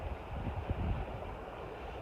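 Steady wind rushing past a sailboat running dead downwind with the genoa furled, mixed with the wash and slap of waves along the hull, loud and continuous with no voices.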